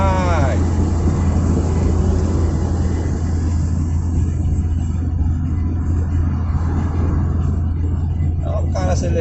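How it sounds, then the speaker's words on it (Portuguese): A truck engine revs nearby as a heavy, continuous low rumble that holds steady and loud, heard from inside a vehicle. "olha o cara acelerando o caminhão ali. Vai ficar acelerando"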